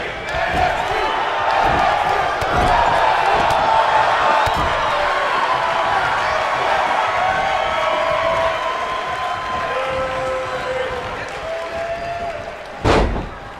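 Arena crowd in WWE 2K19 cheering the Ultimate Warrior, a dense sustained roar of voices filling the whole stretch, with a sharp slam-like thud near the end.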